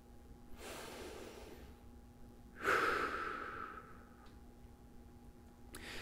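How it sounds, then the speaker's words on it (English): A person breathes in through the nose and out through the mouth during a hip exercise. Two clear, close breaths are heard, the second a louder, forceful exhale, against a quiet background with a faint steady hum. "we're just holding for breaths in through the nose, out through the mouth"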